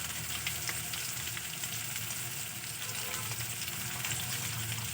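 Ground spices sizzle in a hot pan for eggplant baigan bharta: turmeric, cumin and coriander powders with Kashmiri chili powder. A steady, loud, dense frying hiss runs unbroken throughout.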